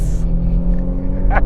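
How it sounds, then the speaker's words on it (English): A Renault Sport GT pulls away hard from a launch-control start, its engine a loud, close, steady roar throughout, with a brief excited voice near the end. "So I'm going to put her in launch control again."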